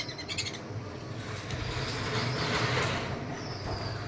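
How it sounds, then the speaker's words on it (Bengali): Birds call at dawn from nests packed under eaves in a cold Himalayan mountain village on the road to Manang, chirping faintly in the distance over a low steady rumble. "ভোর হয়েছে আর সব পাখিগুলো বেরোচ্ছে"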